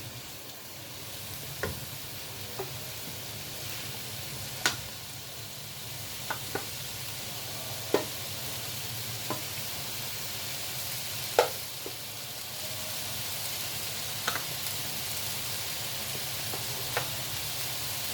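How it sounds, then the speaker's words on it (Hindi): Chicken frying with spices in a pan, a steady quiet sizzle with occasional sharp knocks and clinks of a spoon stirring, no talking. "अब इसको मैं थोड़ा सा भूनूंगी ताकि ये मसाले भी अच्छी तरह फ्राई हो जाए।"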